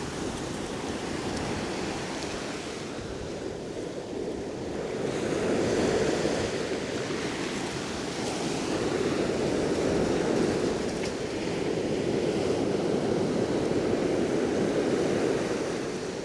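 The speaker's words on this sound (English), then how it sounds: "The sea isn't calm and blue today. It's not calm and blue today. She's rough, tough and hard to bluff." Rough sea surf breaking along the rocky coast at Howth, a steady loud roar of waves with swelling surges and some wind noise over the microphone, no voices.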